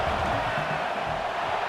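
A stadium crowd in a college football video game, USC versus Nebraska, roars steadily during a field goal attempt, a dense wash of cheering at moderate level.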